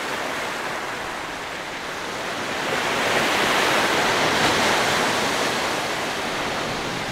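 Sea waves roll onto the shore at Bheemunipatnam in the evening, a steady broadband surf wash that swells louder midway and then eases, with no voices.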